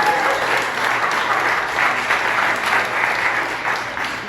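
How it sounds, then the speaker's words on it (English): A crowd at a birthday event in a brewery claps loudly and continuously for a speaker, dense even applause sustained throughout with a slight tapering at the close. "Let's give a round of applause for Keisha."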